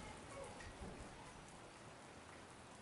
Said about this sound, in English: We are having some light rain so far.